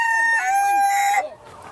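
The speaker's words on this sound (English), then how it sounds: "That's a rooster sound." A rooster on a farm gives a single loud, close crow that lasts just over a second and then breaks off.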